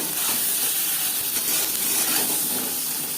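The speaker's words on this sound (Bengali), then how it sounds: "হালকা করে ভেজে নেব।" Turmeric and salt stuffing for stuffed pointed gourd sizzles lightly in a pan, a steady, dense frying hiss that holds evenly throughout with no voices.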